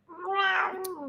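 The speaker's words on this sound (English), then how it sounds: "We got Ocean meowing for you guys as well" A house cat gives a single close, loud, drawn-out meow that rises and then falls, heard alone in a quiet room.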